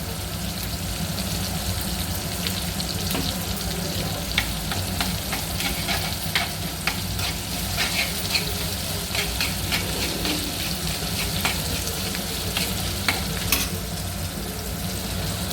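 Ginger garlic paste frying in a pan for a spicy bitter gourd gravy curry, a steady close sizzle with crackling spatter and occasional stirring scrapes, with no talk over it.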